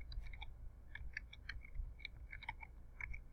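Someone types on a computer keyboard, entering text into a drawing title block: quick, irregular light key clicks, close and fairly quiet, with no talking.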